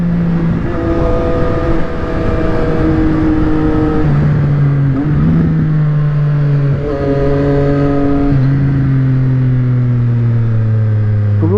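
A loud, steady motorcycle engine with a Yoshimura exhaust drones throughout, its pitch rising and falling with gear changes as the bike rides along, with wind rush underneath.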